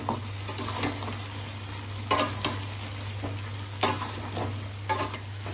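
Tomato paste sizzles with chicken pieces in a pan, a quiet steady frying hiss over a low hum, punctuated by a few distinct clacks and scrapes of a spoon stirring.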